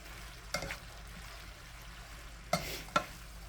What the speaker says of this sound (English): And I'm trying to stir it around, getting it in the pot, trying to get it separated out as good as I can.